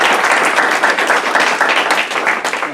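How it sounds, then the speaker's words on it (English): Lecture audience applauding steadily, a dense wash of many hands clapping at close range throughout, with no talk over it. "let's give them a round of applause as well"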